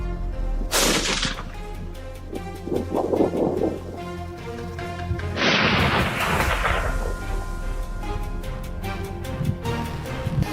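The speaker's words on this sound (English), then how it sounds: "The gunshot rang out precise, deadly." Gunfire during a wild boar hunt on a steep cliffside: two sharp, loud reports several seconds apart, each with a lingering echoing tail, over steady outdoor wind noise.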